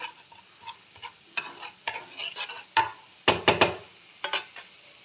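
Masala for a bhetki fish curry is stir-fried in a pan, with a spatula scraping and clattering in irregular bursts over a soft sizzle, a few sharp knocks standing out near the end.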